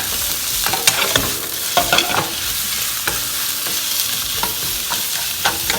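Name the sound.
ground pork sizzling in pan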